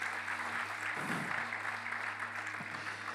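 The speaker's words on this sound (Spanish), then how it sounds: "Denle un aplauso al Señor" A church congregation claps in praise, a broad wash of applause that swells around the middle and carries on steadily over a low, constant hum.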